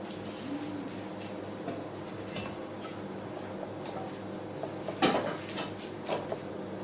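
Dishes, pots and cutlery clink and clatter in a restaurant kitchen, with a steady ambient hum underneath and a louder metallic clash partway through.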